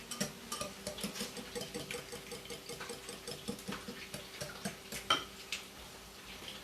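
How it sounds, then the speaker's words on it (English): Eggs being whisked with salt and pepper in a bowl, a quick run of light clinking taps of the whisk against the dish, steady and close, with no talk. "And then I'll do my salt, and then my pepper. And I just whisk them a little bit."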